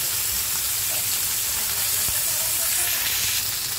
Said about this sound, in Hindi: ऑयल जो है थोड़ा सा इसके ऊपर ऐसे डालकर अच्छे से इसको हम फ्राई कर लेंगे दूसरी तरफ से भी